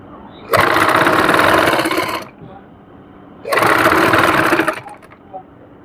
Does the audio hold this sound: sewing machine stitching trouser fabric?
yes